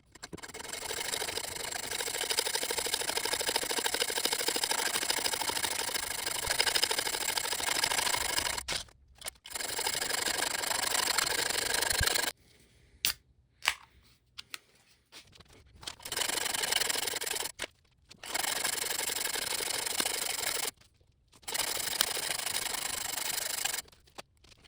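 A hacksaw cuts metal in long bursts of rapid, rhythmic rasping strokes. Several short pauses break up the sawing, and the sound is close and fairly loud.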